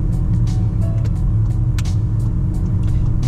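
A car drives steadily through a residential area during a driving lesson, its engine and road rumble loud, low and continuous from inside the cabin, with a few faint clicks and rattles above it.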